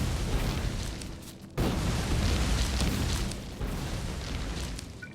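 Grenades going off in the video game Factorio with the Pyanodons mod: a rumbling, muffled blast at about 1.6 seconds and a softer second one near 3.6, each followed by a sustained low roar.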